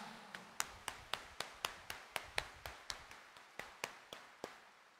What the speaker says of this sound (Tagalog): Itaas nga ang kamay at pumalakpak ng mas malakas.